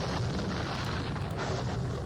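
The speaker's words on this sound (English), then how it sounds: "So we'll soften them up with artillery." Artillery fire in a Napoleonic war video game forms a dense, continuous rumble of cannon blasts, loud and steady throughout with no voices.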